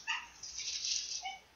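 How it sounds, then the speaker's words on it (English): A pet dog whines and yaps in short, high, fairly faint bursts close to the microphone, with a brief higher yelp near the end and no talking. "she's like barking at something"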